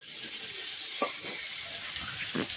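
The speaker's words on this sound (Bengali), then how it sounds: "তো এই যে মাছের মাথাটা ভেজে নিচ্ছে" Fish head frying in oil on a clay stove, a steady close sizzle with a few soft stirring knocks, no voices.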